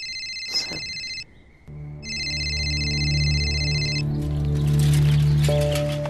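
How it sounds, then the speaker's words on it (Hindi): A phone ringtone chimes loudly in a repeating electronic pattern, briefly cut off and then resuming over a steady low hum. "फोन उठा लो, बहुत देर से बज रहा है।"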